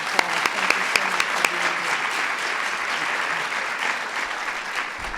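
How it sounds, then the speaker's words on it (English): An audience applauds a panel of women at a celebration event, a dense close burst of clapping with a few sharp individual claps early on, fading slightly toward the end. "let's give these extraordinary ladies a round of applause"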